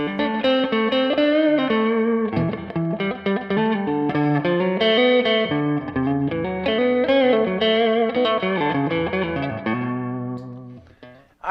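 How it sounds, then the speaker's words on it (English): A Line 6 AX2 AxSys212 modeling amp plays an electric guitar melodic line drenched in heavy reverb with a quick slapback echo, sustained and loud, ringing out at the end. "obviously it's got gobs of reverb and just a hint of slapback delay"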